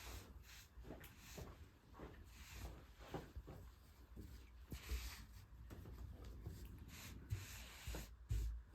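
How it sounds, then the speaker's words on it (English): Hands smooth the wrinkles out of fusible quilt batting, making close, soft, irregular rubbing and brushing strokes with a few light bumps. "So I'm just smoothing out the wrinkles."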